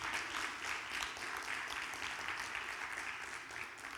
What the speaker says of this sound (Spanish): ¿Cuántos pueden darle un fuerte aplauso a nuestro Dios?